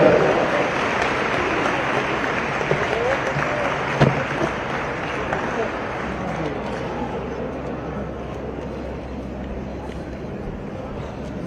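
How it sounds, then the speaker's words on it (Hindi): A crowd claps in sustained applause to welcome the chief guest at the opening ceremony of the Senior Asian Pencak Silat Championship in Kashmir. The loud, steady clapping runs the whole stretch, and a voice is heard faintly beneath it. "तो आप सब जोरदार तालियों से उनका वेलकम करें।"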